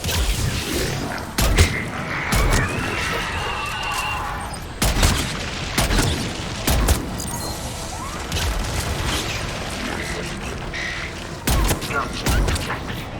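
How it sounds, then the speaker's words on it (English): Missiles launch in Mass Effect 3 as a series of sharp, heavy blasts and booms at irregular intervals, mixed with mechanical creaks and clatter from combat. "Missiles are on."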